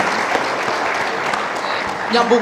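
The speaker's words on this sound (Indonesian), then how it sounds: "Tepuk tangan dong, ya kan?" An audience at a political talk event breaks into steady applause, a dense continuous clatter of many hands that swells slightly toward the end.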